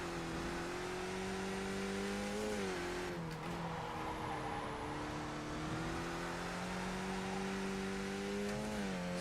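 A race car in a racing video game slides around a track, its engine droning steadily and loud with pitch rising and falling as it revs, tires squealing through the slides.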